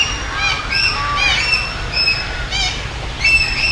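Several birds squawk repeatedly in an outdoor park in Bundaberg, harsh rasping calls coming in quick clustered bursts over a steady low background rumble, fairly loud and nearby with no talking.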